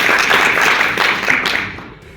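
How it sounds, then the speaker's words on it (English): A conference audience claps after a talk introduction, a dense burst of applause that stays loud and even before tapering off within about two seconds. "Let's clap for them."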